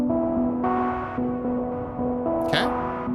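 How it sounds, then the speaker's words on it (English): Hive synth layering a sawtooth oscillator with white noise through an LFO-modulated filter, sustained tonal chords shifting every half second or so with a brief noisy swell near the end, no voices. "what you're hearing is the combination of a sawtooth and the white noise"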